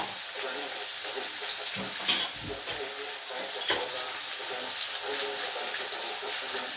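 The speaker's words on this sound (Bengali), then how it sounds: "কচুলতিটা ভালো করে ভাজা হোক।" Taro stolons frying in a pan, a steady broadband sizzle with a couple of brief clatters from stirring, close and continuous, no voices.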